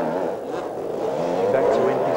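Yamaha motocross bikes in a 125 cc race at Olympic Park in 1982, engines buzzing and revving with rising pitch, close and loud under a commentator's voice.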